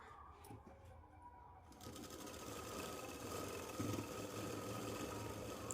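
A sewing machine stitching a Punjabi dress hem, starting with a brief quieter whirr and then running in a continuous fast, even mechanical hum and clatter at close range.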